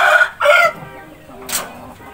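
An Aseel rooster gives a couple of harsh, broken crowing calls close by, followed by a brief higher squawk, with quiet pauses between them.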